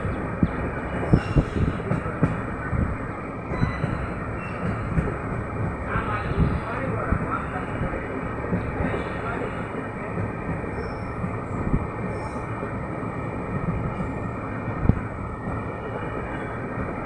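A passenger train runs from Mahuva to Surat through green monsoon countryside in Gujarat, its wheels clattering and rumbling steadily on the rails from inside the carriage, with occasional louder knocks throughout.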